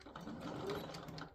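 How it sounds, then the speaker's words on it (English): A sewing machine slowly stitches down fabric with a soft, steady mechanical whir, faint and close, running continuously throughout. "we're back over here to the sewing machine, and we want to stitch this down"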